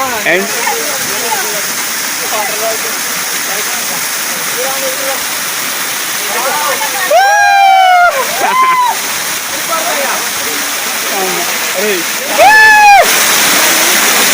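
A loud, constant rush of a waterfall near Hyderabad, Telangana, where people are bathing, roars throughout, with voices shouting and calling out briefly over it.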